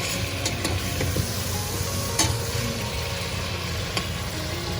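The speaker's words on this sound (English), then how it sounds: "We're going to give it a quick stir, check on how the potatoes are cooking." Bengali aloo poshto potatoes are stirred in a pan, a continuous close sizzle with scraping and clattering strokes of the spoon and a few sharper knocks.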